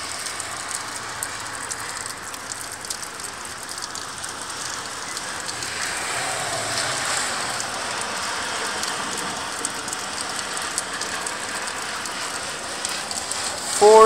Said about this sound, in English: Four days of rain.